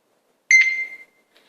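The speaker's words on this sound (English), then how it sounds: "I'm just going to scan the barcode here on this clue game that we got. And you can listen to the loud noise that it's going to make." Handheld barcode scanner reading the barcode on a Clue board game box, giving one loud, clean electronic beep of about half a second, close and isolated, followed by a faint tail.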